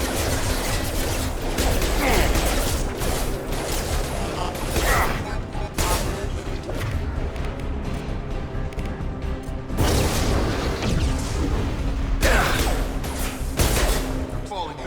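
Continuous gunfire and heavy impacts from a Mass Effect 2 combat scene, dense and loud throughout with bursts and booms, mixed with voices and game sound.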